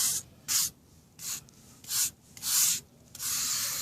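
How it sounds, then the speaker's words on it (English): A brush sweeps sand into a crack in a concrete driveway, giving five or six rough, scratchy strokes in an uneven rhythm, close up and with no talking. "after I had the sand, I'm going to use the brush, this brush."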